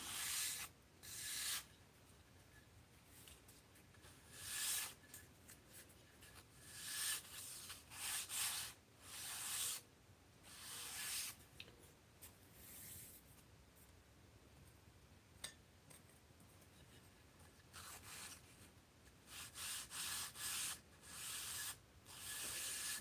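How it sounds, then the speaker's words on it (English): Balsa wood strips for a foam model wing sanded by hand, a dry raspy rubbing that comes in repeated bursts of strokes with short pauses between, close and steady with no voices. "Let's sand this a little bit."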